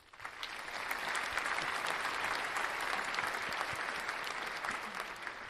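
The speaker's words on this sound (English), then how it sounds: "And I also want to do one more round of applause for you, Angelina." A radio show audience gives a dense, sustained round of applause, an even wash of many hands clapping at moderate, slightly distant volume for about five seconds.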